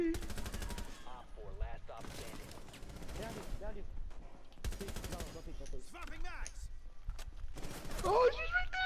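Rainbow Six Siege gunfire erupts in several sharp automatic bursts separated by brief pauses, with voices talking between the shots.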